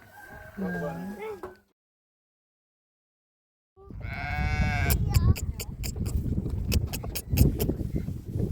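Lambs bleat on a farm, several quavering calls close by after a silent gap, mixed with clucking fowl, clattering and voices of people talking nearby.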